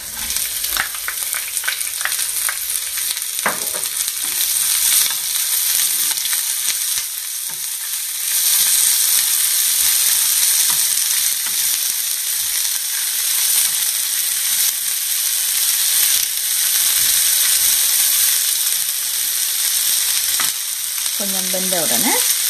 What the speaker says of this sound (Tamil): இனி வெட்டி வச்சிருக்க வெங்காயத்தை அதோட கலந்து கொள்ளுவோம்.